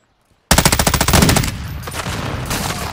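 Rapid automatic fire from the M13B rifle in Call of Duty: Modern Warfare 2, a loud close burst of evenly spaced shots starting after a brief silence, then trailing into a rumbling echo.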